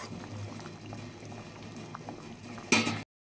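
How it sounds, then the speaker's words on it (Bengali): A pot of vegetable curry boils with a steady bubbling and popping close by, and a sharp, louder clatter of stirring comes just before it cuts off. "তরকারিটা সুন্দরভাবে ফুটে যাওয়ার পরে সবজিগুলো প্রায় আমার সিদ্ধ হয়ে গিয়েছে"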